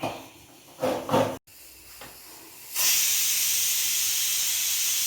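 A kitchen mixer grinds spices with coconut: a few clunks and knocks of the jar being set, then the motor starts and holds a steady, loud, bright whirring hiss to the end.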